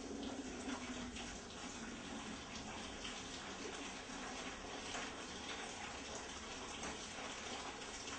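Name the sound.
water being poured into a bucket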